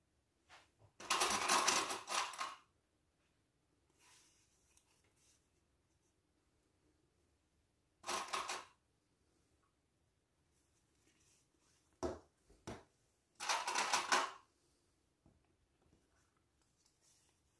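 A sewing machine stitches a seam on a fabric pouch for a shopping bag in short separate bursts of rapid whirring, several runs spread across quiet pauses, heard close and without talk.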